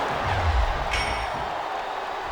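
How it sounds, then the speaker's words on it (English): A steady crowd roar fills a wrestling arena in WWE SmackDown vs. Raw 2007, a continuous, fairly loud wash of cheering that runs throughout. "I think these superstars are getting some feedback from the crowd, JR."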